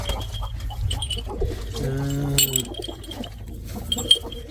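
Pigeons in a farm coop give soft bird calls with a brief harmonic call near the middle, over a low background murmur and occasional light clinks.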